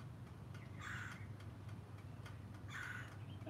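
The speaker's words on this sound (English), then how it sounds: "I just heard a bird, Barbara." A bird calls twice outdoors, two short harsh cries about two seconds apart, moderately distant over a steady low background hum.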